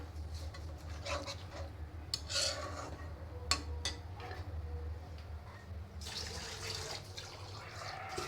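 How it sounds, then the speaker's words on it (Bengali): Water being poured into a pan of curry that has just been sautéed with tomato, for a rohu fish bhuna, a steady splashing pour with rasping, clattering kitchen sounds over a low hum, heard close and without speech. "তো কষানো হয়ে গেল, এখন পানিও দিয়ে দিচ্ছি।"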